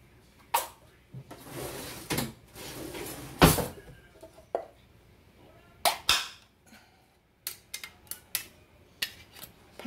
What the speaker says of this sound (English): Let me get this lid off of the pie crust.